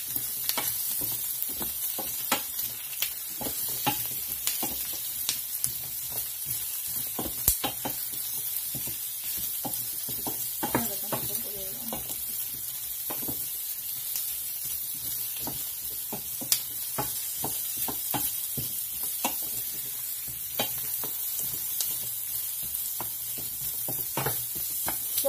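Sardines frying with papaya in a home-cooking pan, a steady sizzle running throughout with scattered clicks and scrapes of stirring, close and fairly quiet, no talking.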